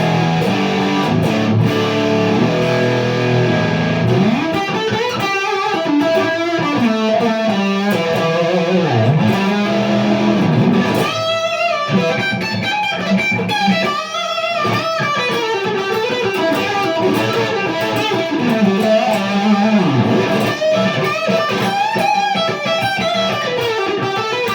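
Danelectro 59M electric guitar played through a Big Muff Green Russian fuzz set to full distortion, a loud, thick sustained fuzz tone with chords and note runs ringing continuously and no talking.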